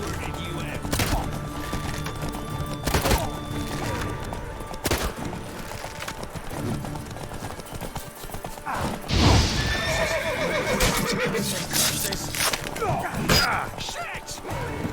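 Horse neighing and whinnying in the Witcher 3 video game, with steady clip-clopping hooves, a loud whinny near the middle, thuds and scattered clashes over a busy game soundscape; no speech.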